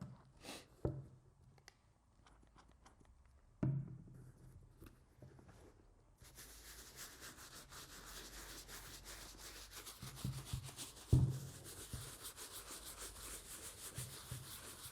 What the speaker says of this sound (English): Make sure to scrub in a circular motion too, and you could always reapply foam if you need to.